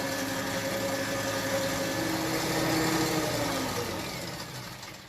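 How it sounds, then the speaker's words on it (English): Electric mixer running at medium speed while whisking, a close and continuous motor whine with a steady drone that swells a little midway before tapering off. "keep that whisking on a medium speed again for about another 10 minutes"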